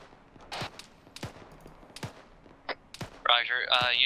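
Sniper fire in the military video game Arma 3, several sharp, separate gunshot cracks spaced about a second apart, moderately loud against a quiet background, with a radio-like voice breaking in near the end.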